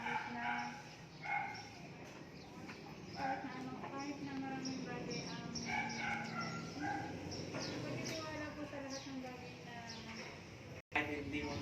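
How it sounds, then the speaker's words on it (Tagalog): A dog barks repeatedly in the background, short yaps scattered through the scene while a person talks steadily over them, the barking fairly distant and partly masked by the voice. "Maingay na naman yung aso."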